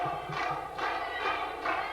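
A wrestling crowd at an NWA show roars in repeated swells, chanting and cheering in rhythmic waves that rise and fall about every half second, loud and close.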